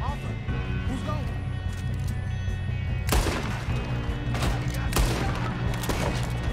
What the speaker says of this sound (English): Pad rahi hai goliyan.